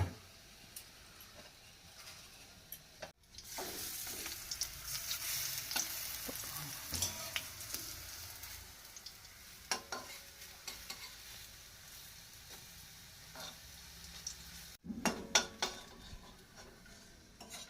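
Green chillies fry in a pan of hot oil after a batch of besan-battered fritters, giving a faint, continuous sizzle with occasional stirring clinks of a utensil against the pan.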